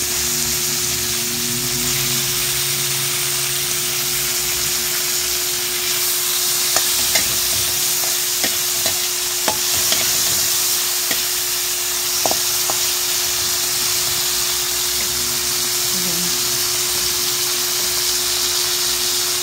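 Tomatoes sautéing in a pan for milkfish sinigang with miso, a steady, loud sizzling hiss with a low hum behind it and scattered light scrapes and taps of a spatula, no one speaking.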